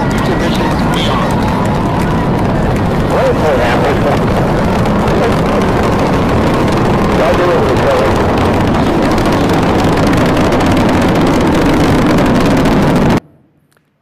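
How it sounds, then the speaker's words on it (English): Space Shuttle Discovery lifting off on a mission to the space station: a loud, continuous, broadband rocket roar that holds steady for about thirteen seconds before cutting off abruptly, with voices likely mixed in beneath it. "boost ignition, and liftoff of the Space Shuttle Discovery, returning to the space station"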